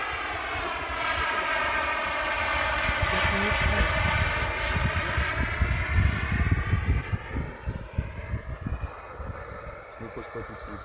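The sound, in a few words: RC jet model Aermacchi MB-339 engine in flight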